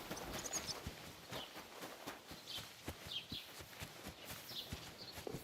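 Horse hooves clop along steadily in Kingdom Come Deliverance II, a regular walking rhythm of soft thuds at moderate distance, with faint bird chirps above and no talk.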